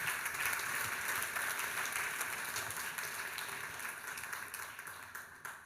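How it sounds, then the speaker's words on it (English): Faint, steady applause from an audience at a talk on community health worker programmes, a sustained patter of many hands that slowly fades toward the end. "which deserves a round of applause"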